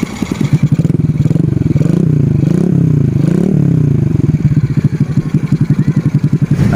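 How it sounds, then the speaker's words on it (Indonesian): A Honda Legenda 2 motorcycle, built up in a BMX-style custom, idles and revs up close, its steady low engine pulse loud and continuous with a brief rising rev in the middle. "Untuk mesin suaranya adem banget ya, suara adem"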